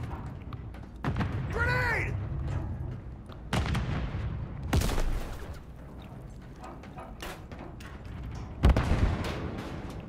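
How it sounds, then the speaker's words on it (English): A grenade goes off in a Call of Duty MW3 team deathmatch, one of several booming blasts and gunfire bursts in a noisy firefight, with a voice shouting over the action. "Grenade!"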